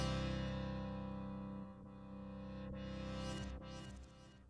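A delay and reverse audio plugin processes a dense, droning sustained signal whose filter cutoff is swept by an LFO, producing slow whooshing dips and rises in brightness, steady and moderately quiet with no talk.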